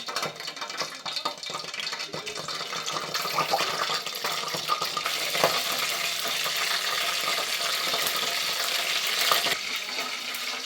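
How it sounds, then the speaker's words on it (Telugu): Mustard seeds, cumin and fenugreek spluttering in hot oil, a dense steady crackle and sizzle with scattered sharp pops that grows slightly busier midway and stays close and fairly loud throughout, with no voices. "ఆవాలు చిప్పట్లు ఆడేసాయి"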